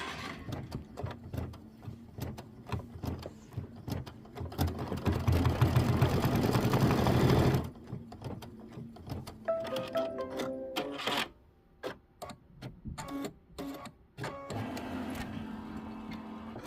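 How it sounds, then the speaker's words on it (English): A computerized embroidery machine stitches a ribbon tack-down line on a roll-up pouch project, a rapid mechanical chatter that swells louder midway, then breaks into short bursts and pauses with brief whirring moves between them. "I am going to slide this back and let it stitch."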